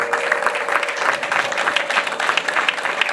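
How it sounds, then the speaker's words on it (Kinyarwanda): At a Rwandan wedding celebration an audience claps in a dense, steady round, with a thin sustained high-pitched vocal tone, likely ululation, running underneath the clapping. "amashyi n'impundu biririkize dushime"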